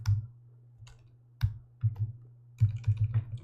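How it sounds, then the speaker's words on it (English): Keystrokes on a computer keyboard come in short clusters of clicks at close range, with brief pauses between bursts, over a steady low electrical hum. "I'll just type this formula here."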